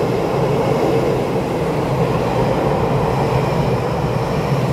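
Taiwan Railways TEMU2001 Taroko and TEMU2002 Puyuma Tze-Chiang express trains passing through Songshan station on an empty-stock run, a steady loud rumbling roar of wheels and motors sustained throughout, with no distinct horn blast standing out.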